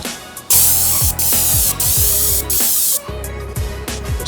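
Airless paint sprayer clearing its line in reverse for interior trim work, a loud, close pressurized hiss broken into several short bursts with brief drops between them.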